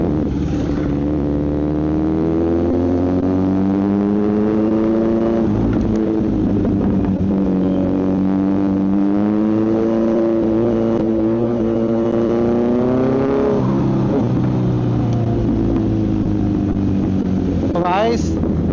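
Kawasaki Z900 motorcycle ridden through city streets, its engine droning loud and close with rising and falling revs and a steady wind rush throughout.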